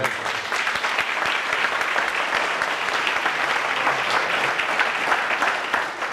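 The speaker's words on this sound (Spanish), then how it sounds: "Obviamente, un aplauso también para Javi." Audience applause at a political union event, an even wash of many hands clapping throughout, fairly full and continuous with no voices on top.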